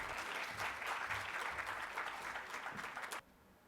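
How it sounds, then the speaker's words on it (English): Audience applauding presenters at a business event, a dense crowd of clapping hands heard from some distance at low level, continuing steadily for about three seconds before stopping abruptly. "A round of applause to encourage them."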